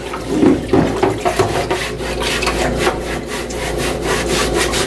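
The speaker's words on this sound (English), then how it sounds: "And you can really feel the grime scratching off." A brush scrubs grime off a textured plastic interior panel of a VW car. The scrubbing is loud and close, with rhythmic back-and-forth rasping strokes and no voices.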